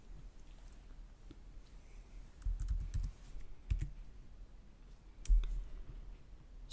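Quiet, close computer keyboard typing as a number is entered into a spreadsheet: scattered light key clicks in small clusters over a soft room hush.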